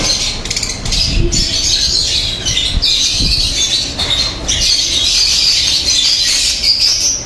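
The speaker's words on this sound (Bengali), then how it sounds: "সবাইকে পাখি দেখাও" Pet birds squawking and chirping nearby, harsh repeated calls over a busy background with some knocks and shuffling sounds.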